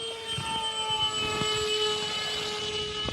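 The electric motor of an FMS Easy Trainer 1280mm RC plane braking its propeller: a steady high whine with layered tonal hum, close and continuous, joined by faint ticking.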